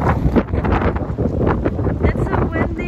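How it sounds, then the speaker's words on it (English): Gusting wind buffets a microphone outdoors on a sunny, windy day in Copenhagen, a constant low rumbling roar with bursts of stronger gusts throughout. "It's a windy day."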